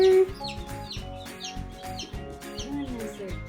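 Speckled Sussex baby chicks just arrived from the post office, peeping steadily in a close, busy chorus of high chirps that runs throughout with little pause.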